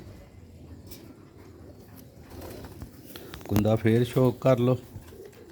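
Pigeons of a Sialkoti rooftop breed coo at night, a low burst of repeated throaty calls in the last two seconds after quiet ambience, with a voice speaking earlier.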